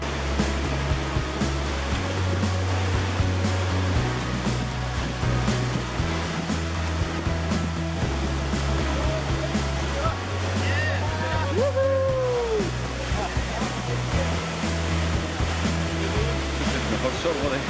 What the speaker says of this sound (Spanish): que sales y ves esta preciosa cascada. Es imponente